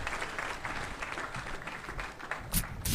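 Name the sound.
audience applause at housing project launch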